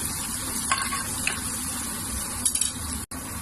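Three cloves of minced garlic sizzle steadily as they brown in a pan, a close, continuous crackle with a few light stirring clinks and a brief cut near the end.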